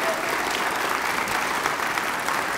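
An audience at a 2018 community chorus concert applauds its director, a dense, even round of clapping that holds steady from start to finish, with no voices over it.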